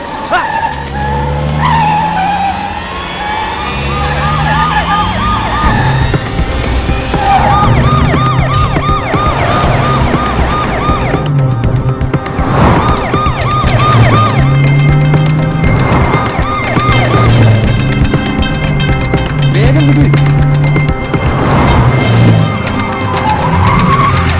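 A loud police siren wails continuously, its pitch sweeping up and down, along with engine and tire noise from nearby traffic.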